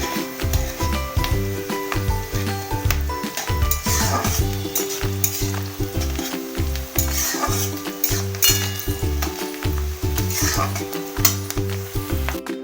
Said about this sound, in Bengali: পেঁয়াজটা আমি হালকা ব্রাউন করে ভাজবো, বেশি লাল করবো না